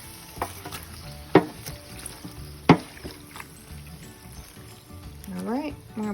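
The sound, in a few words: beef fat rendering into tallow, being stirred in pot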